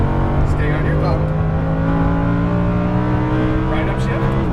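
Lamborghini Huracan accelerating hard on a race track, a loud onboard engine note rising steadily under a coaching voice, with a faint squeal of tyres.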